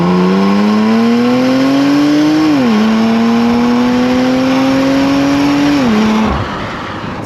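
A loud Porsche Macan Turbo engine revs and climbs, drops briefly as it shifts, climbs again, then cuts off, heard close up with no talking.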